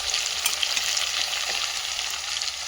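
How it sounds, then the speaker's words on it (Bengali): A few potato pieces fry in hot oil over a high flame, a dense, even sizzle with quick crackles, close and uninterrupted. "তার আগে একটু হাই ফ্লেমে আলু কটা আমি হালকা করে একটু ভেজে নিচ্ছি"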